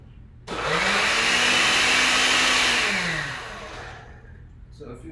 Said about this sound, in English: my blender is also very old, please forgive us